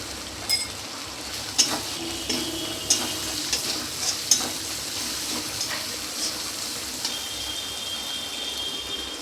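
A spice mix with a little turmeric sautéing in a pan makes a soft, continuous sizzle, with a few sharp clicks and scrapes of stirring in the first half.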